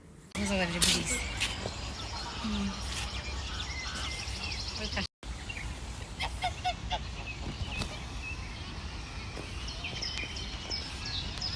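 Domestic ducks around a village pond with a small duck house on the water, honking and quacking calls heard repeatedly at moderate distance under ambient outdoor noise and some talk.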